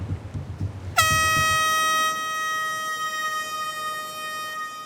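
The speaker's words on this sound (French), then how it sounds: "en actionnant la corne de brume" A deep, loud foghorn blast sounds and holds steadily for several seconds, ringing out over low background rumble, on a reality TV survival game.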